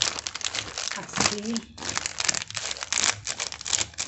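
Paper or cardboard being crumpled and cut for a recycled Christmas craft, crinkling and rustling in bursts close by while someone talks over it.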